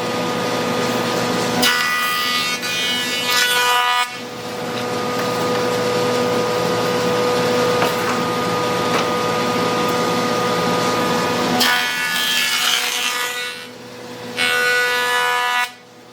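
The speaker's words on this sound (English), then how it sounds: "Now that we're at a joiner, we're going to joint these boards square." A jointer machine flattens and squares wooden boards for a cutting board. Its loud, steady motor whine carries a strong harmonic tone, and the cutting texture changes as each board passes over the blades.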